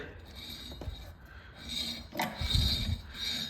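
A John Deere X390 riding mower's 54-inch deck belt turns on its pulleys, giving a quiet, uneven rubbing rasp that swells after a couple of seconds, with no talking.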